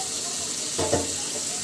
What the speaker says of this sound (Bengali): দিয়ে দিচ্ছি অল্প একটু গরম পানি।